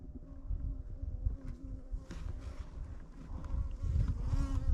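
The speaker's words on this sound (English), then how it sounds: "Just a few bees in the lid." Bees buzz steadily around an open beehive lid, a low droning hum with a few louder individual bees passing close to the microphone.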